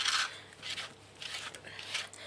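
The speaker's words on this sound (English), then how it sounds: "I'll just show you scraping of the paint" A texture comb scrapes paint across a jelly plate in a few soft, gritty strokes, each one close and quiet.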